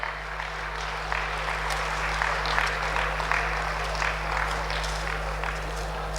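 Audience applause in a grand hall at a ceremony honoring an achievement, a steady wash of clapping with a constant low hum from the sound system underneath.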